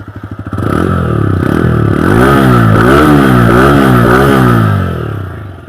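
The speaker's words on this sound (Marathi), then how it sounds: "गाडीचा आवाज ऐका तुम्ही" A motorcycle engine idles with a chugging pulse, then revs up loudly several times in rising and falling surges before settling back, very close and dominant with no talking.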